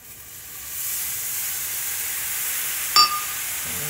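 Water hisses and sizzles steadily in a hot skillet of corn for hot honey skillet corn, rising to a strong close steam hiss, with a brief clink of a utensil near the end and no talking.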